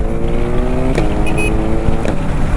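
A superbike engine revs hard on an open road, a loud, continuous roar with steady harmonic tones and brief throttle surges, close and dominating throughout.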